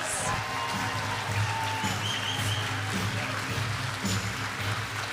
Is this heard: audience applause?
yes